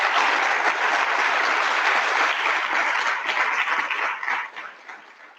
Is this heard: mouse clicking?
no